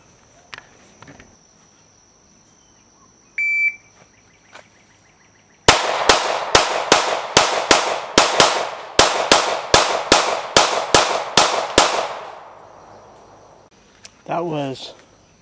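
Sixteen sharp, loud gunshots fire in a quick, fairly even string over about six seconds, recorded by a Pact Club Timer III shot timer; a faint timer beep precedes them and a short voice follows.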